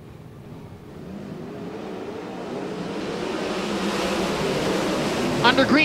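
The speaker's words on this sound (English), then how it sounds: "Toyota Pace Truck makes its way into the infield." A Toyota pace truck drives into the infield at a dirt-track race on the final night of the Gold Cup, a steady engine and tyre rumble that builds and grows nearer beneath broad crowd and track noise.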